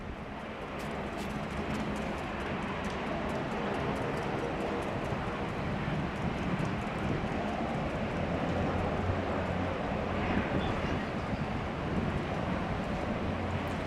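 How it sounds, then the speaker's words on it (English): A Regional Express Saab 340 turboprop takes off down runway 16 right at Sydney Airport in heavy rain, giving a steady, broad roar that holds for the whole stretch, blended with wind and rain noise on the microphone. "The Saab 340 of Regional Express, also known as Rex, chuffing off down runway 16 right."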